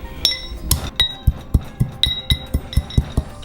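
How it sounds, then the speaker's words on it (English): The narrow end of a pestle crushing cinnamon sticks in a mortar, giving a rapid series of sharp, hard clinks and knocks at a steady pounding rhythm, close and loud. "We're going to use the narrow end of a pestle just to break it down slightly."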